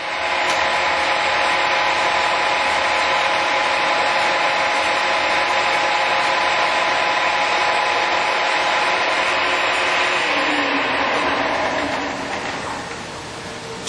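A Giddings & Lewis Bickford Chipmaster radial arm drill with its spindle running at 430 RPM gives a loud, steady mechanical whir and hum. The sound holds even for most of the stretch, then drops slightly near the end.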